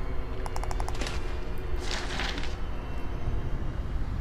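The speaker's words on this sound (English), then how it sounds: "you can hear dudes with guns" Gunfire from armed men in the horror video game Outlast: Whistleblower, heard as a quick burst of rapid shots followed by louder sharp cracks, set over a dense, rumbling background.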